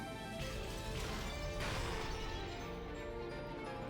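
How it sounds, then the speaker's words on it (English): Knocking, crushing and smashing sounds in a mansion scene of the Umineko visual novel game, a dense continuous din of crashing impacts with several sharper hits, loud and without speech. "The mansion was filled with the sounds of knocking, crushing, smashing, and chewing."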